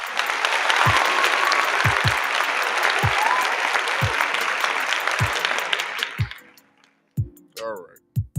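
Audience applause at a live comedy or talk show, a dense wash of clapping from a crowd that holds steady, then fades out near the end, followed by a brief snatch of voice.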